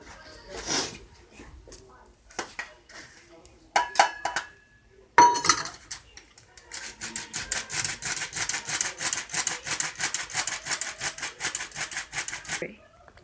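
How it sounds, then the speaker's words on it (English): Unsweetened cocoa powder sifted into a bowl for homemade brownies, with a sifter giving a sustained run of quick rhythmic metallic rattles and taps after a few scattered clinks of utensils and dishes. "Now I need to sift in 1 cup of unsweetened cocoa powder."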